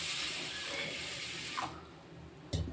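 Tap water runs and splashes into a vessel holding raw rice and moong dal for washing, a soft steady stream that fades out, followed by a brief clunk near the end.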